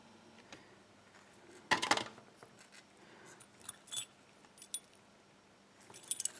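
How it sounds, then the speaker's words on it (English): A bunch of keys jangles close by as lock keys for a Burg-Wächter Boccia lock are handled, one sharp jingle followed by several softer metallic clinks, no speech. "Here are the keys."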